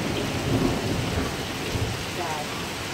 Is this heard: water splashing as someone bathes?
no